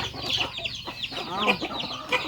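Chickens cluck in a rapid, overlapping chatter at close range on a small family farm, with faint rustling in the background.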